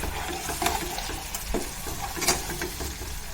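Onions, green chillies and ginger garlic paste frying in oil for double masala egg bhurji, a soft sizzle with a few stirring scrapes, close and moderately loud, with no talking.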